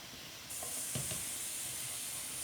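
Green beans and seasoning sizzle in a turkey skillet, a steady bright hiss that jumps louder half a second in and holds, with a few soft clatters of stirring in the pan.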